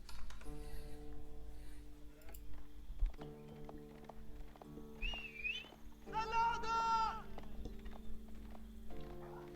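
Game sheep in Age of Empires bleat in a few short wavering calls amid a busy strategy-match soundscape of clip-clopping horses, tones and effects, with a commentator talking over it.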